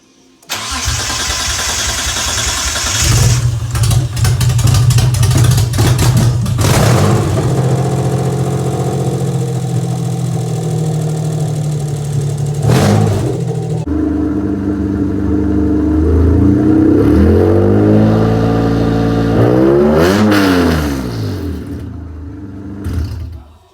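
A Mitsubishi 3000GT SL with a swapped exhaust starts and settles into a rumbling idle, then climbs through several loud revs that rise and fall, ending with a sharp blip before cutting off.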